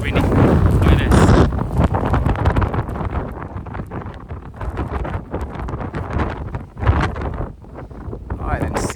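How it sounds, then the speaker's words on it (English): Strong wind gusting and buffeting a microphone outdoors during a Canadian winter snow storm at a marathon start, a continuous loud roar with surges, partly under a voice. "Man, it is extremely windy today."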